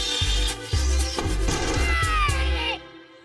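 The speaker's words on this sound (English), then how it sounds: "You pin a thread to the window with a drawing pin, then keep out of sight and scrape the piece of resin along the thread." A piece of resin is scraped along a thread pinned to a window, giving loud, close, screeching, yowling bursts like a cat fight, about five rising strokes in a row before falling quiet.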